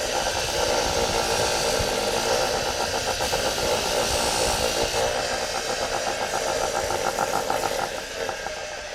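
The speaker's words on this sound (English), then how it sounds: "After you have your compound on and you put it on a polishing wheel" Polishing wheel buffing die cast metal trim loaded with compound, a continuous whirring grind with a rough, fluttering texture, steady and fairly close for several seconds before easing off near the end.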